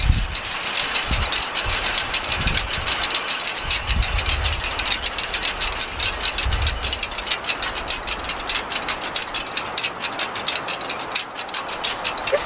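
A complicated kinetic wind sculpture turns in a gusty outdoor breeze, making a steady clattering rattle of many quick ticks over low wind rumble, with no talking.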